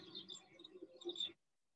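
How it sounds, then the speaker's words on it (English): Flamingos call in Greece on the island of Lesvos, a faint, brief burst of overlapping nasal honks and chatter from a flock that stops abruptly. "This is just a little sound of the flamingos"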